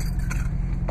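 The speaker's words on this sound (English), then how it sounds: "Got your smart key fob here." Smart key fob for a 2007 Chevrolet Corvette Z06 jangling briefly inside the car, a short metallic rattle over a low, steady background hum.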